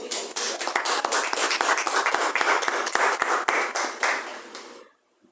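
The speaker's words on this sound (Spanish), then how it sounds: "justamente un aplauso para ella también" Lively applause from a group at a novel's book presentation, dense clapping with a few sharp individual claps standing out, sustained for several seconds before stopping abruptly.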